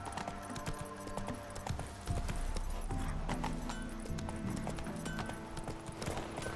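Hooves clip-clop at a steady gallop as a horse runs in The Witcher 3, loud and continuous over a busy game soundscape, with an occasional faint voice.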